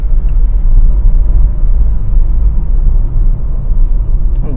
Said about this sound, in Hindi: फिर से मैंने थर्ड गियर पर ले ली गाड़ी